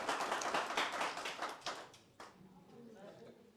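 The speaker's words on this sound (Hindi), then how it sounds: "तालियां थोड़ी धीरे पड़ी हैं, तेज पड़ जाती हैं थोड़ा।" Audience applause at a live music show, a dense wash of clapping that fades after about two seconds into quieter scattered claps and murmur.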